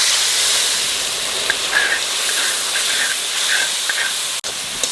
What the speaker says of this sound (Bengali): এইবার জল দিয়ে গুলানো মশলাটা দিয়ে দেবো।